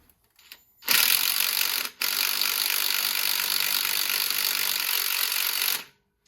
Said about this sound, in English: I will say, it is drilling.